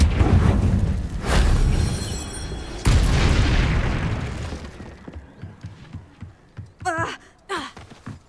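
A Confringo spell blast in Hogwarts Legacy detonates with a loud booming burst, followed by a second heavy impact near three seconds that fades out, leaving quieter crackles and brief magical chirps.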